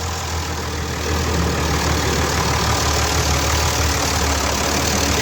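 Idling engine of a Bedford RL military lorry with a 500 engine, a steady low rumble running evenly and close for the whole stretch with no talk over it.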